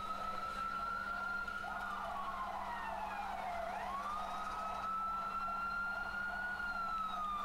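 Emergency vehicle sirens wail through Central, Hong Kong, fairly faint and distant, with two overlapping tones sweeping up and down against a steady low street hum.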